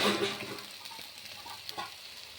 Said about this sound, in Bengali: এখন আমার মশলাটা ভাজা হয়ে এসেছে।